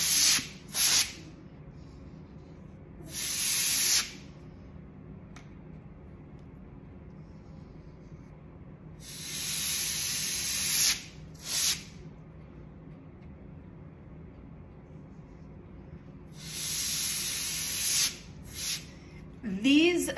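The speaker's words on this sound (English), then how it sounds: "Office Depot dusters tend to overspray like this." An Office Depot air duster spraying alcohol ink makes several short hissing bursts of varying length, close to the microphone and separated by quiet pauses.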